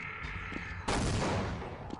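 A grenade explodes in Half-Life, the first-person shooter, during a speedrun grenade boost: one loud, close blast, then a roaring rumble that fades over about a second.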